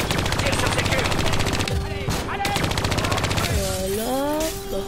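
Rapid automatic gunfire rattles in a Call of Duty Black Ops 3 campaign firefight, a dense burst of shots for the first couple of seconds, then scattered weapon and effect sounds with game tones trailing off.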